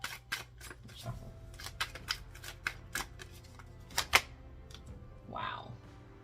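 Tarot guidance cards are shuffled by hand in a quiet room, giving a run of sharp, close riffling snaps and taps with brief pauses between bursts, one louder flurry near the end.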